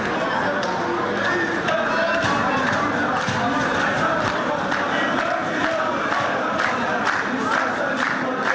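A large crowd of Galatasaray football fans roars and chants continuously, a dense wall of many voices cheering together at steady volume throughout.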